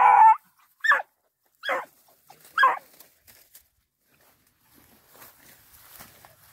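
A beagle at a rabbit hunting field trial barks four times in spaced, loud yelps close by, followed by faint footsteps and quiet rustling.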